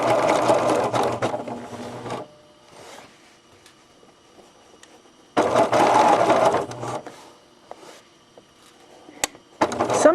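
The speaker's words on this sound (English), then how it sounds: "if I'm sewing yarn, because yarn is so thin, I backstitch right over it, so I catch that yarn 3 times" Sewing machine stitching yarn onto a fabric softie toy, heard as three bursts of rapid, close mechanical stitching separated by quiet pauses filled with faint handling rustles.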